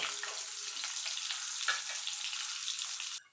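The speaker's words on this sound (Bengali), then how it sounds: "আলুটা দিয়ে আলুটা লাল লাল করে ভেজে নেব।" Potatoes frying in a pan over low-to-medium heat for a vegetarian taro curry, a steady dense sizzle that runs unbroken and fairly close, then drops away abruptly near the end.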